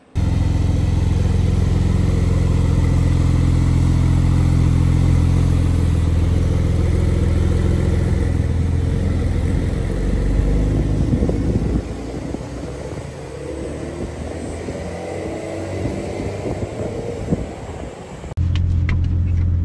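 A Porsche 992 Carrera S drives at the Porsche Experience Center Tokyo, its engine roaring loud and steady, then easing into a lower rumble with tire and road noise before picking up again at the end.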